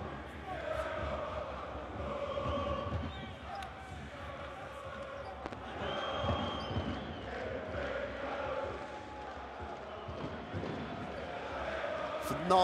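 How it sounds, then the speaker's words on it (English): A packed basketball arena crowd at a Champions League quarter-final between AEK and SIG Strasbourg roars and sings in a continuous swelling chant, with a commentator's voice heard over the din. "Phenomenal crowd noise."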